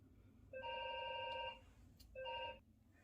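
A telephone rings indoors with a steady electronic tone in two bursts, a long first ring and a shorter second after a gap. It is moderately distant, with only quiet room noise around it and no talking.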